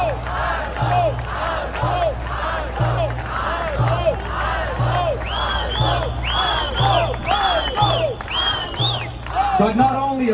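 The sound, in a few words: crowd in New York chanting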